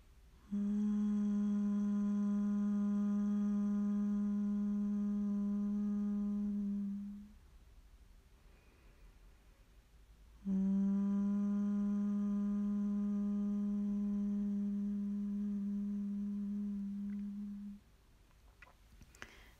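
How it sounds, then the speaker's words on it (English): A low, steady vocal hum on the exhalation of humming bee breath is held for about seven seconds, then after a pause comes a second long hum, close and even, like a breath-driven drone. "we're going to make the humming sound"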